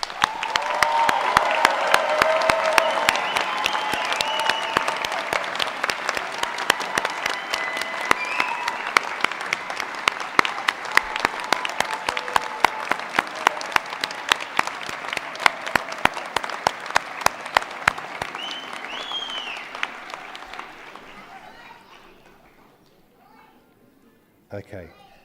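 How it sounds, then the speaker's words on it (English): A large crowd at a university graduation ceremony applauds loudly and steadily for about twenty seconds, then the clapping thins out and dies away. "join me in giving them all a very large round of applause"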